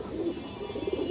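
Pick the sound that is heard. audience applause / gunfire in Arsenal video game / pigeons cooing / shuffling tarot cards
pigeons cooing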